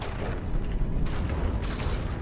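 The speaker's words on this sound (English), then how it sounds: "Cram cannons firing," Cram cannons in the game From the Depths fire in quick successive booms, heavy thuds blending into a rough, rumbling battle din.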